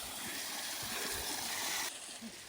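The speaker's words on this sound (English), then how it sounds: "Beautiful natural spring water." Natural spring water flows and gushes steadily in a stream, a soft continuous rush heard from close by with no talking.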